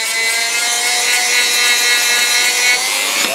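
A tool scrapes steadily into ash wood, cutting a maker's mark into a handmade catapult with a continuous rasping, sawing sound, close and alone, with no voices.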